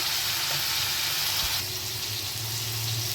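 Oil fries in a pan while paneer fried rice is being cooked, giving a steady, close, dense sizzle that keeps going without a break and with no voices over it.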